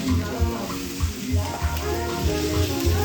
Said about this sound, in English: For our onions right now, you see, it's just low and slow. We're just letting them caramelize all on its own, basically.